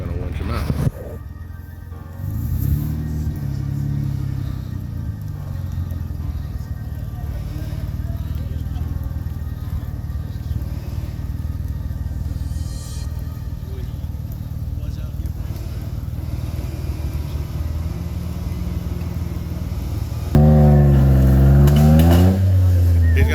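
Off-road Jeep engine revving while the stuck, bottoming-out vehicle is winched out on a slippery trail at Beasley Knob; a steady low engine drone sits under ongoing talk, then swells into a loud, rising rev near the end.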